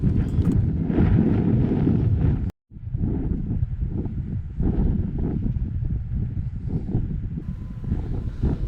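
Strong wind buffets the microphone in heavy, rumbling gusts at a viewpoint in Inishowen, Ireland, with a brief cut-out partway through, then continuing to roar.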